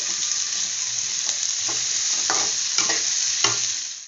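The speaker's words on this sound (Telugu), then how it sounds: "కార్న్ అండ్ క్యాప్సికమ్ బీన్స్ 3 వేసేస్తున్నాను. ఇవి బాగా వేయించుకోవాలి." Corn, capsicum and beans fry in a pan with a continuous loud sizzle, punctuated by several brief scraping stir strokes, heard up close with no speech.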